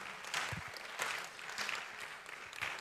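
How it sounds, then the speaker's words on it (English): Audience applauding at a university conference closing ceremony, a moderately loud, steady wash of many hands clapping with small surges throughout, no voices over it. "Can you clap for Allen?"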